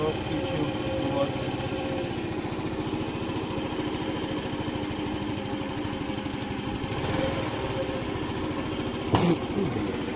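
Small Racer Corvus 50 scooter engine running steadily at idle, a continuous buzzing putter held close and level throughout, with a brief click and knock near the end.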